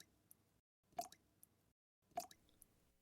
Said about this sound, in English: What is that dripping sound?